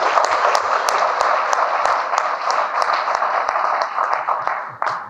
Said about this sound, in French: je vous prie de vous applaudir vous-même